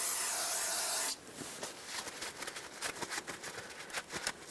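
Aerosol brake cleaner sprays in one long continuous hiss for about a second onto the front brakes of a 2008-2010 Ford F-450 Super Duty after caliper replacement, then stops, followed by faint wiping and rubbing sounds.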